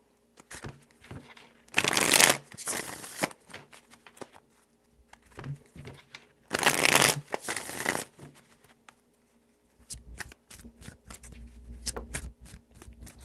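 Tarot cards are shuffled in three distinct bursts of riffling, papery flutter, close and fairly quiet, separated by softer handling taps and shuffling sounds.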